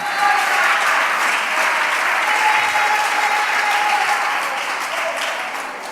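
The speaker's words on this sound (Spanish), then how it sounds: "Dele un fuerte aplauso a mi Señor" Dense, loud applause from a church congregation fills the space evenly for several seconds, steady and unbroken, with no speech on top.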